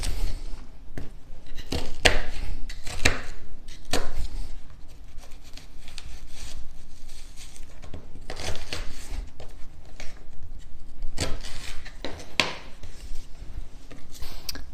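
An onion is chopped with a knife for osso bucco, giving close, irregular chopping and scraping knocks that come in quick bursts separated by quieter pauses, with no talking.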